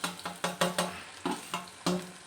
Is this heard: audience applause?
no